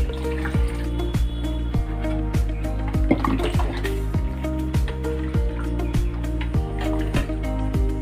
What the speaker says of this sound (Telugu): ఇప్పుడు కొంచెం మరలా కొంచెం వాటర్ వేసుకుంటున్నానండి